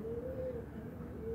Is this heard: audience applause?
no